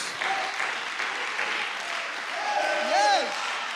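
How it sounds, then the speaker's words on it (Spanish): A church congregation claps continuously in a dense, crackling wash of applause, with a voice calling out over it and rising near the end. "Give God a round of applause."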